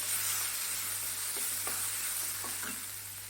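Tomatoes and onions sautéing in a pan for a tomato curry, a faint steady hiss of frying with a few soft stirring taps over a low constant hum.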